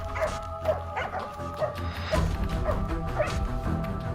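A working dog on a wild boar hunt gives repeated high yips and whimpers, close and fairly loud, in an uneven rhythm over a low rumbling background.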